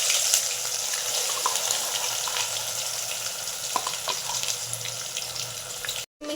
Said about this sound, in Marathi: आता ह्याला तेल सुटूपर्यंत मस्त भाजून घ्यायचं।